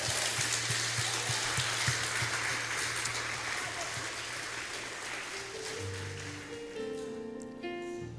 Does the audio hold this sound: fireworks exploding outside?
no